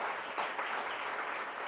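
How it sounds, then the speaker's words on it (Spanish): An audience applauds an event organiser at a gathering of business-owning families in Panama, a dense, even wash of clapping that holds steady for under two seconds. "Un aplauso para Isabel"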